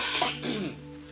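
A single rough cough merging into throat clearing from a man recovering from an illness, close and brief, lasting about a second.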